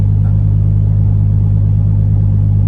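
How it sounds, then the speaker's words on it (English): A 1993 Toyota Supra engine idles just after starting, a loud, steady low-pitched rumble with an even pulsing hum and no speech. "Okay, I started the car."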